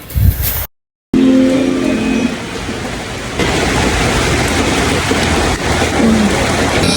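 Heavy rain falls at night in a steady loud hiss that washes over everything, broken by a short silent gap near the start, with a few faint tones underneath.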